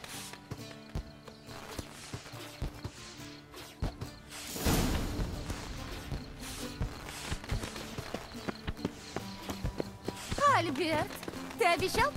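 Horse hooves clip-clop in The Witcher 3 amid other game sounds, with a sharper burst midway and voices speaking throughout.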